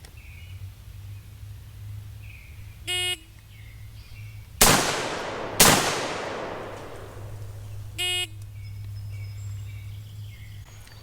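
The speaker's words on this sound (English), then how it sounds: "I have to fire 2 shots into the body of the target left-handed." An M14-style SOCOM16 rifle fires two sharp, loud gunshots about a second apart, each with a decaying echo, with electronic beeps before and after over a low background hum.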